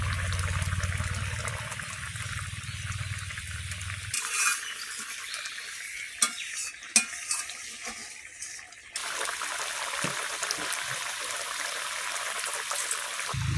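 Spice paste and ground coriander fry in a pan for an egg curry, giving a steady close sizzle that drops away briefly in the middle before resuming.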